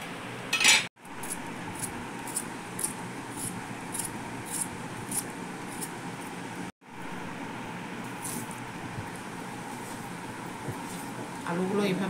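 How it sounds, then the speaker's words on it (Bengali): A kitchen knife slices potatoes into long strips for a fish curry with potato and eggplant, producing repeated light chopping taps and scraping clinks on a board across the whole stretch, with two brief dropouts and faint voices. "এখন আলুগুলো কাটছি"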